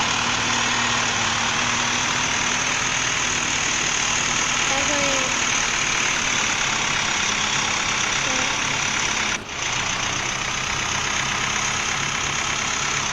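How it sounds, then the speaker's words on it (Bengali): A tractor engine idles with a steady, droning low rumble that runs unbroken from start to finish, loud and close, while someone speaks briefly over it. "তারপরে আমি আমার ট্র্যাক্টর গাড়িটা নিয়ে যাচ্ছিলাম দেখতে।"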